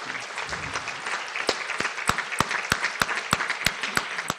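Audience applause for a board of directors standing at a meeting, steady crowd clapping with a few sharper, louder claps standing out near the front, no talk over it.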